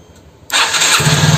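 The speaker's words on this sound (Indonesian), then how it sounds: "penyakitnya itu ada di bagian double starter ya, teman-teman ya. Kurang lebih seperti ini nih." A Vespa Matic S150 scooter with a double-starter fault cranks with a brief click and whir, then catches abruptly into a loud, close engine roar that keeps running steadily, with no talk.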